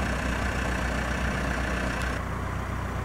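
A 2005 Case 580SM II backhoe loader with a 95-horsepower 445T M2 diesel engine idles steadily and close by, a constant low rumble that drops slightly in tone near the end.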